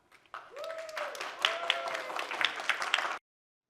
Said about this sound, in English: Please join me in a warm round of applause as we welcome the executive members of AWA.